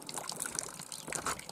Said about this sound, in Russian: Все капает, ребят.